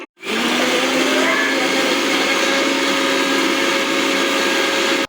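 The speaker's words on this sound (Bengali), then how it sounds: "জিরাটাকে এখন আমরা মিক্সিতে ইসে করে" Roasted cumin seeds being ground in an electric mixer grinder: a loud, steady whirring motor roar with a grinding rasp, running continuously for about five seconds and then stopping abruptly. No voices.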